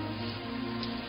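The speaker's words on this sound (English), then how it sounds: "I wish the rain would stop just once." Steady rain pours down in a film scene from The Crow, a dense, even hiss of falling drops that holds at constant loudness throughout, with a low hum beneath it and no voices.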